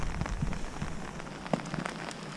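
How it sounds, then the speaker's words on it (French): Steady rain patters on a nearby surface with scattered sharper drops, over a low, blustery rumble of wind, at a large cemetery in France. No one speaks. "je sais pas si vous m'entendez bien avec le vent qu'il y a et avec la pluie"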